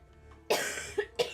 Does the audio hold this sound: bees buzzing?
no